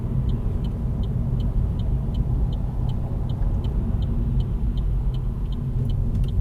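Cars circling a roundabout in Northampton, heard from inside a moving vehicle as a steady low road rumble with passing traffic, plus a faint rhythmic ticking throughout.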